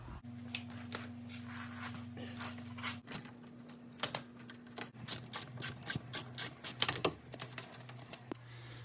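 A ratchet on an extension turns out a bolt during front wheel bearing replacement on a 2004 Oldsmobile Alero, with close, rapid clicking bursts in quick rhythmic strokes between a faint motor hum.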